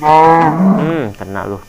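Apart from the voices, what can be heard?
cow mooing in the Minecraft video game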